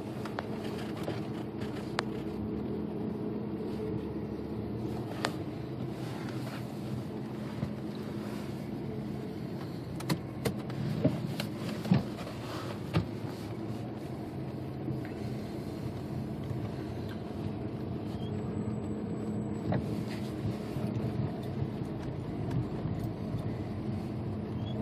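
A 2003 Volkswagen Jetta 1.8T backs out and pulls away, its engine a steady low drone at light throttle with road and wind noise throughout and no talking.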